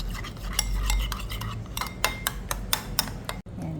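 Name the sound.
mixing kani salad in a bowl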